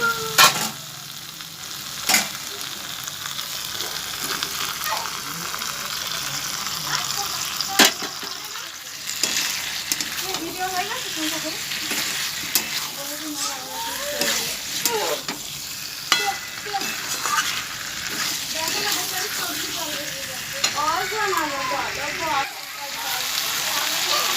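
A spatula stirs fried pointed gourd into potatoes in oil in a pan: steady sizzling frying with repeated scraping strokes throughout, while someone speaks over the cooking in the later part.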